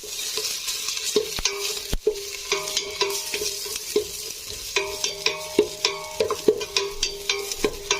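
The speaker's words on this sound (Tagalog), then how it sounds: "Now, hinggisan natin muna yung bawang." Garlic and onion sautéing in a pan, a steady frying sizzle under repeated close spatula scrapes and taps in an uneven rhythm, with no talking.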